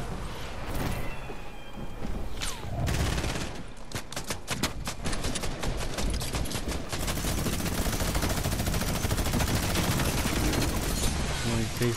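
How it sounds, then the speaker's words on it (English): SMG gunfire in Fortnite, loud rapid bursts of automatic fire crackling through most of the stretch, with shorter pauses early on and a near, dense rattle afterward. "what kind of SMG is that?"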